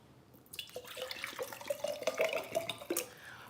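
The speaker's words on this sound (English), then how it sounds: "Let me sip some water." Water being poured into a glass, a quiet, close, gurgling and splashing stream with small drips and clinks, lasting a few seconds with no talk.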